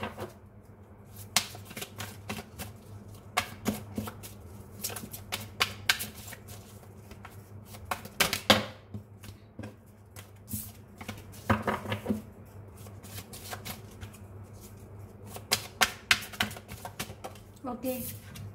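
Tarot cards being shuffled and handled in irregular bursts of soft, crisp riffling and flicking, close and fairly quiet, with a steady low background hum.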